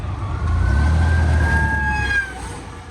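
A wailing emergency siren sweeps steadily over loud rumbling engine and road noise from a highway vehicle convoy, fading slightly toward the end.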